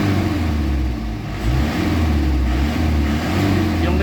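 An Isuzu Crosswind engine running after a low-power diagnosis, a loud, steady mid-range drone that rises and falls slightly over about four seconds, close to the microphone.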